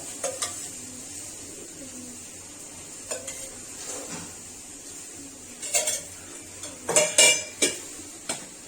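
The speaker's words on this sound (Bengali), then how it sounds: "তো সোয়াবিনগুলো তুলে নিয়েছি এবং কড়াইয়ে তেল দিয়ে দিচ্ছি মশলা ভরবো বলে" Oil goes into a hot karahi after fried soybeans are lifted out: a soft, faint sizzle under scattered metal clanks and scrapes, which grow louder and bunch together near the end.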